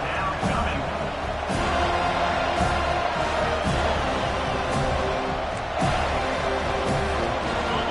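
A stadium crowd in a college football video game roars steadily through a big third-down play. The cheering swells in places, and a voice talks over the noise.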